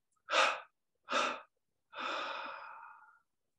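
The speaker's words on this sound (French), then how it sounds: "Puis on prend une inspiration profonde par les narines. 3 expires pour entrer dans la phase d'expansion." Deep breaths drawn through the nostrils during a guided meditation: two short, breathy inhalations followed by a longer, steady exhalation, close and soft with no talking.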